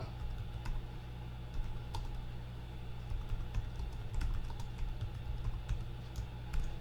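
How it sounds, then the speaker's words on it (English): Typing on a computer keyboard: quiet, irregular clicking keystrokes in quick bursts, with a steady low background hum underneath. "You can just start typing"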